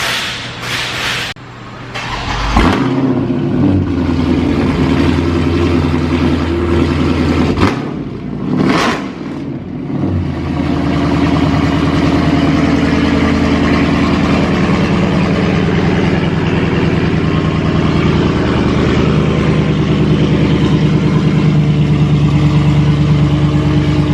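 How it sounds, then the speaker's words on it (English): Cold start of a 2021 Dodge Charger 392 Scat Pack widebody, a cranking catch and loud revving bark settling into a deep, steady, rumbling idle, close and loud. "Let me get a cold start."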